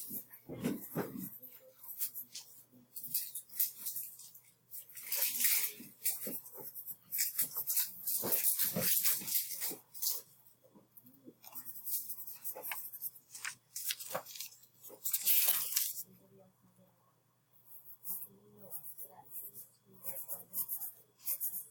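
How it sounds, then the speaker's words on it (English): Pen or pencil writing in a paper notebook, a close, steady scratching and rubbing that continues in uneven strokes with brief pauses. "So I'm writing in my notebook and I'll show you what it looks like."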